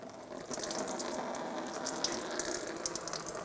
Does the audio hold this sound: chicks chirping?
no